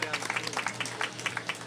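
A round of applause for a councilman at an outdoor mayoral press conference at a playground, a quick burst of crowd clapping with voices mixed in.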